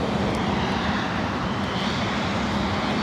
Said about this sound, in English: Emirates taking off on the south side.